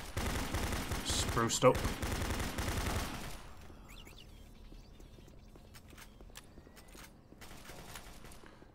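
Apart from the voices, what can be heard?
turret gunfire in Doom 3 Redux mod video game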